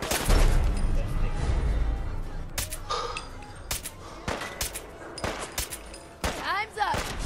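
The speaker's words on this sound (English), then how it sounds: "That's a legendary rifle." Rifle gunfire in a video game: several sharp, loud shots fire singly at irregular intervals over a rumbling in-game background, with a faint voice briefly audible near the end.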